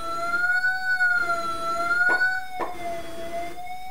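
Sonification tones from a Desmos graphing calculator audio trace, with a steady pitched tone sliding slowly across the graph and two short pops as the trace crosses the axes, clear and close with no talk.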